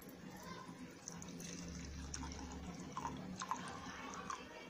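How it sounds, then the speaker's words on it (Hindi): Milk poured into a cup for mango custard makes a soft, faint trickling and gurgle, low and steady in a quiet room with light background noise. "हमने 1 कप लिया है और उसमें हम डालेंगे दूध।"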